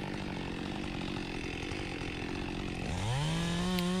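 A chainsaw runs through a tree during a dangerous hung-tree removal, engine droning steadily under load before revving up sharply near the end, loud and close with no voices.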